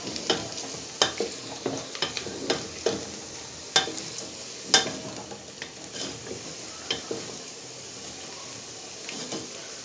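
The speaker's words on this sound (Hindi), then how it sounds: "सबसे पहले हलीम के लिए कोरमा तैयार करने के लिए मैंने प्याज रख दिया है" Onions frying in a pan as the base for a haleem korma: soft continuous sizzle broken by scattered sharp clicks and scrapes of a stirring spoon, close and moderately quiet, with no talk.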